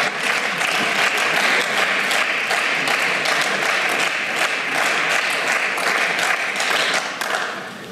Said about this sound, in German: Also daher wundert mich, dass es jetzt Applaus gibt von der Seite